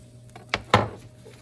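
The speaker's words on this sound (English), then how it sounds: "we're just going to take this over to our cutting board and give it a slice" A knife slices through a grilled cheese sandwich made with American cheese on a cutting board. Two sharp crunchy cuts, the second louder, stand out against a quiet background.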